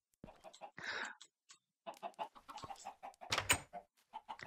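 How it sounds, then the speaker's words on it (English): Chickens on a small farm in a block-building video game, a flurry of quick soft clucks and pecking-like blips in irregular bursts, fairly faint and without speech. "And this is my little chicken farm I've got going."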